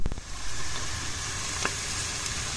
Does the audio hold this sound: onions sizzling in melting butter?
yes